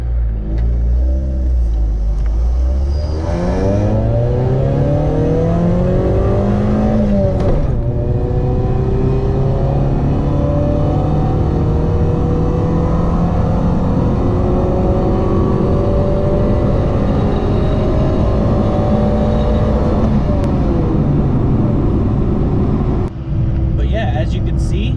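A car engine revs up hard in a long second gear, pitch climbing steadily as it accelerates to about 80, loud and close, then cuts off near the end.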